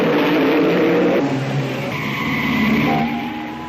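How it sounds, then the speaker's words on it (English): Rear-engined Cooper Climax racing cars at a 1959 Grand Prix, with Stirling Moss at the wheel, growl and rev in a sustained, loud engine roar that shifts pitch as they pass. "They are rear-engined Cooper Climaxes, number 30 being driven by Stirling Moss."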